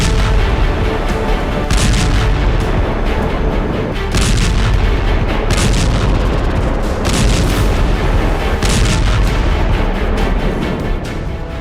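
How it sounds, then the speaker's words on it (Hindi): Artillery explosions on the Russia-Ukraine battlefield form a loud, dense, continuous rumble of overlapping booms and blasts, with sharper bursts recurring every couple of seconds. "इसी तरह 24 घंटे में 1000 विस्फोट हुए।"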